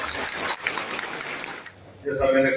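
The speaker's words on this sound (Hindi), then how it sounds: "जोरदार तालियों से अभिवादन।" An audience claps to welcome a speaker at a local civic gathering, with dense steady applause that fades out before a voice begins.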